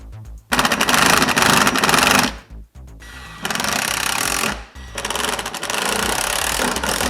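A power tool drives small screws into a Jeep Patriot body panel in three loud, buzzing, rattling bursts separated by brief pauses.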